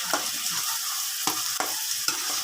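Ginger garlic paste being stirred into chicken keema frying in a pan: a constant bright sizzle with several scraping strokes of a spoon, close up and with no talking.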